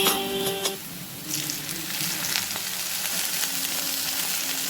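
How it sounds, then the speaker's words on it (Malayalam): Okra stir-frying in coconut oil in a Kerala kitchen, giving a loud, steady close-up sizzle after a brief clatter, the hiss spreading bright and constant with faint stirring; no voices. "നമുക്ക് ഇതിനകത്ത് പിന്നെ വെളിച്ചെണ്ണ ഒഴിച്ച് കൊടുക്കാം."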